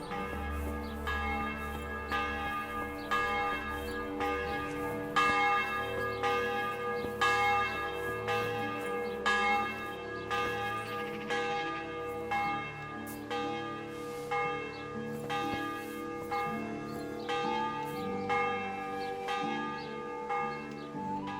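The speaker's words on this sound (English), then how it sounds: "Quit dinging your bell." Church bell pealing in the medieval game Kingdom Come: Deliverance, repeated resonant strikes in a steady rhythm with long ringing overtones, loud and unaccompanied by talk.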